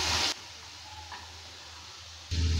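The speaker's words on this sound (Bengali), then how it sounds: "ছোলার ডালটা দেওয়ার পর ভালো করে নেড়েচেড়ে নিচ্ছি আর এটা কিছুক্ষণ সময় নিয়ে ভেজে নেব।" Soaked chana dal fries in a pan as it is stirred, with a soft crackling sizzle that rises sharply in short bursts at the start and end and settles to a quieter fizz between them.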